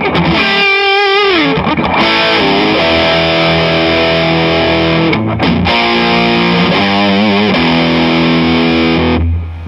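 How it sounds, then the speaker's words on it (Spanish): A 1990 Gibson Les Paul Standard electric guitar plays loud, heavily distorted chords and bends through its bridge pickup, a sustained saturated tone with brief pauses between phrases. "la pastilla de puente tiene ese sonido que solo tienen las Les Paul"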